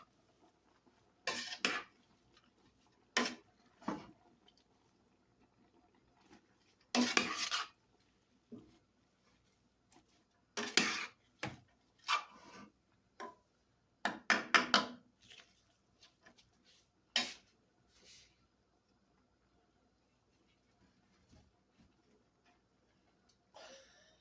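Onion soup ingredients stirred in a pot, scattered spoon clinks and scrapes in short bursts separated by quiet gaps, close and moderately loud.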